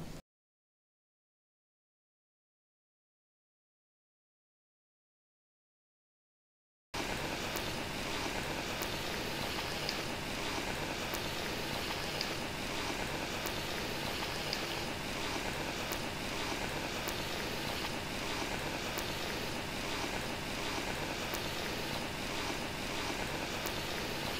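Fenugreek leaf and chana dal vadas (garelu) fry in hot oil, a steady, dense sizzle that starts abruptly after several seconds of silence and continues evenly throughout, close and moderately loud.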